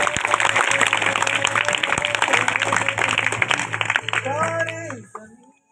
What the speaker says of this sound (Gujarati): ચલો, દરેક જણ બનાસ ટીમને તાળીઓના ગડગડાટથી વધાવીશું.